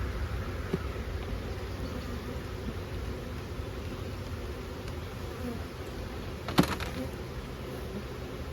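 Honey bees hum steadily around an open nuc hive, a dense, even buzz that holds for several seconds with a single brief rustle or knock partway through.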